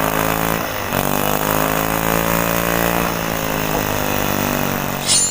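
Homemade valveless mini air engine running steadily, a loud continuous mechanical whir with dense even harmonics and no pauses, close up and alone without talk.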